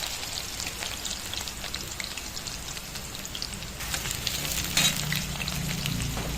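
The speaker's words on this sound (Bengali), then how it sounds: "তারপর আমি আলুগুলো দিয়ে দিলাম, ভেজে নেব অল্প ভালো করে লাল লাল করে" Potatoes fry in hot oil in a kadai, a steady dense sizzle and crackle throughout that swells louder and fuller in the second half, with no voices.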